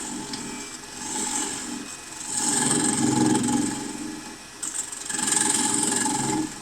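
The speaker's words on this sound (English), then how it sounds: "Going to establish an inside mortise with the parting tool." A woodturning parting tool cuts an inside mortise into very dry wood on a lathe, turning a ship deck platter. It makes a steady raspy scraping that swells into louder surges, with no talk.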